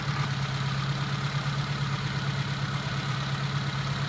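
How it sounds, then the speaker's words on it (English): A car engine idles steadily while its alternator is tested, a constant low mechanical hum with no other sounds. "You'd never do this with the engine running"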